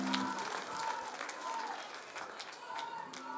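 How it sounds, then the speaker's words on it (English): Audience at a Swing Cats show in Dublin clapping steadily at moderate level, with a bit of crowd noise and tonal ringing underneath. "A round of applause for Ailish."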